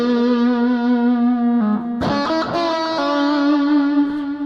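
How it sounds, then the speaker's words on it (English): Sustained electric guitar notes swirl through a phaser with repeating delay echoes on a Boss Katana MK1 amp, chords changing a few times, loud and continuous with no talking. "Lots of delay in phaser."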